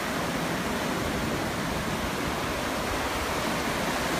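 Ocean waves at a beach at sunset make a dense, continuous roar of surf that stays loud and steady throughout, with no voices.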